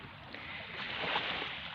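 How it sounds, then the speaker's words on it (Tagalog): Seaside waves wash onto a beach at Balino in a steady, broadband rush that swells slightly toward the middle, with no voices. "Nasa tabing dagat po ako ngayon"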